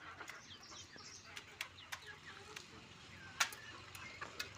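Backyard chickens fed wheat in the afternoon give faint, scattered clucks and sharp pecking clicks over a quiet background.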